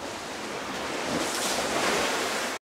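Sea waves wash against the shore below a lighthouse at high tide, a steady broadband rush of surf with some wind buffeting the microphone, loud and close, swelling slightly midway before cutting off abruptly.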